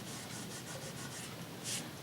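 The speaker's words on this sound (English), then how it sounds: "some glue seepage we can either rub off" Glue seepage being rubbed off a paper artwork, a soft rhythmic scratchy rubbing repeated in quick strokes, close and fairly quiet.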